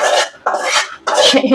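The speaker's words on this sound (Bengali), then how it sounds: "পেঁয়াজ রসুন ভাজা শেষ লাল হয়ে গেছে এখন আমি ডালের মধ্যে দিয়ে দিব" Fried onion and garlic tempering is poured into hot dal. Three loud, close bursts of hissing sizzle come in quick succession, each separated by a brief dip.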